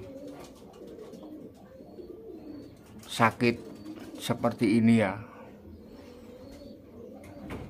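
Pigeon coos from a sick pet pigeon, a few soft low calls in short bursts between about three and five seconds, mixed with a person speaking over low background noise.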